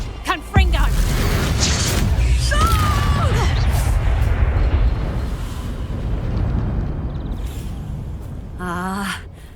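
Confringo fire spell blasting in Hogwarts Legacy combat, a sharp loud burst followed by a sustained roaring rumble that slowly fades, with a brief crackling spell flourish near the end.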